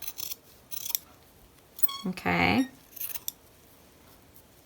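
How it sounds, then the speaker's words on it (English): Sewing scissors snip along the raw edge of fabric while trimming a bra seam, giving several close, crisp cuts with a longer slicing stroke in the middle; a voice speaks briefly. "So I'm just going to go all the way down along that raw edge, definitely not the folded edge, just trimming that raw edge."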